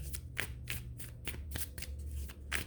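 Tarot cards being shuffled by hand, a quick run of soft riffling slaps and flutters repeating in steady bursts, close and fairly quiet with no talking.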